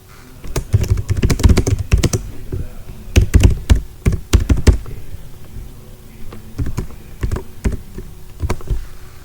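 Computer keyboard typing HTML code, bursts of close, crisp key clicks in quick runs separated by short pauses, fairly loud and without speech.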